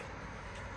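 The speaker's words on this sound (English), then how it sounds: "sorry about the noise of the traffic." Steady, dense road traffic noise, a continuous rumble of passing vehicles close by.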